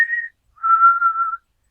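Two clear whistled tones, a short steady note followed by a longer sustained one after a brief pause, evoking the eerie whistling from The Walking Dead; alone, no talk.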